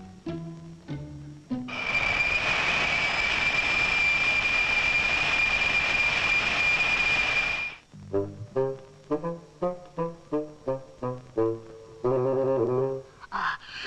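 A cartoon airplane engine roars steadily at takeoff for about six seconds, loud and close, then gives way to a choppy string of short, punchy sounds.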